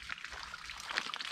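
Water pouring into a newly built backyard pond lined with a liner, a faint, steady splashing trickle heard alone and fairly quiet.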